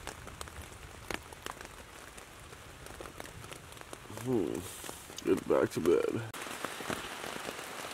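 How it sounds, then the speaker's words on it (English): Heavy rain pours steadily through a night-time thunderstorm at a wilderness camp, a continuous dense hiss that holds throughout, with a voice speaking briefly over it partway through. "Man, can you guys hear that rain out there?"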